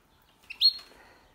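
A canary in a cage with other birds gives a couple of short, bright chirps, one brief note followed by a louder sharp tweet, close and otherwise quiet.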